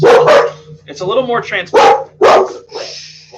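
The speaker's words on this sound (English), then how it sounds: "my dog's just figured out that my lawn guy's here. So if you hear barking, I apologize." Dog barking indoors at a lawn worker outside, several loud close barks and yips in bursts, with a person talking between and over them.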